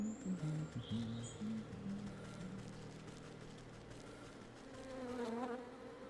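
A swarm of bees buzzes steadily in the fantasy game Wytchwood, a dense insect drone joined by softer chirping, cooing ambience and brief tonal game effects, all fairly close and continuous, with no talking.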